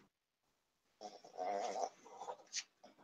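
A dog sniffs close by in a quiet room: a short burst of rapid snuffling breaths after a near-silent stretch, with a brief louder snort near the end.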